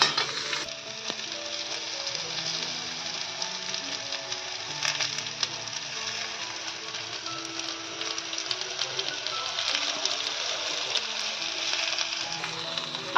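Badi lentil dumplings frying until brown in a pan, a steady loud sizzle with occasional stirring scrapes and clinks running throughout.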